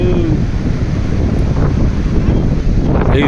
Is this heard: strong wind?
yes